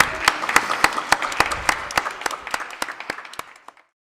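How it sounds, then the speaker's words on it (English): Audience applause at the final of a 2022 public speaking competition, with separate claps ringing out in a fairly sparse, steady patter that thins and fades to silence after about three and a half seconds. "A big, big round of applause"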